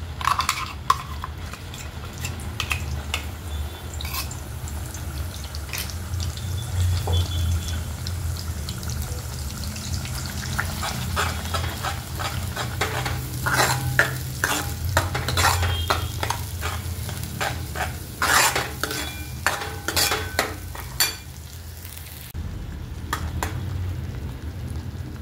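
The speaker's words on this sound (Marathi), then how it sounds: "जो मसाला मी मिक्सरला बारीक केला आहे तो त्या तेलात टाकून घेणार आहे." Finely ground spice masala fried in hot oil for a spicy Maharashtrian katachi amti, sizzling steadily up close while a spoon scrapes and stirs it in repeated strokes, with a short pause near the end.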